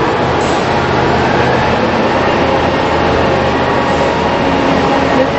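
Steady loud rumble and broadband roar inside a train on a Zürich to Milan rail journey, continuous rolling noise with no clear voices.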